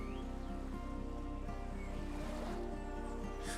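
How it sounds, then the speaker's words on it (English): Ocean waves break and wash along the Oregon coast near a seaside golf green, a soft continuous surf rush at a low, distant-sounding level with no voices. "the ocean wind shapes every shot, while waves crash just yards from the green"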